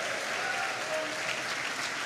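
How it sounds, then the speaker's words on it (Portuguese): Congregation applauding during a church service at a men's mission congress, a steady, fairly quiet wash of clapping hands with no talk over it. "Pode aplaudir ao Senhor, pode aplaudir, dando glória a Deus"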